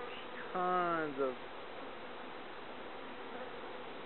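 Honeybees buzzing around an open hive during an inspection, a steady low hum running throughout, with a person speaking briefly over it near the start.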